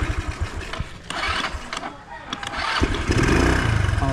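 Mr. Matepo's motorcycle, used for hauling tiles on a bungalow house build in light drizzle, is started up close. A few clicks and cranks lead into the engine catching, revving and settling into a steady running note.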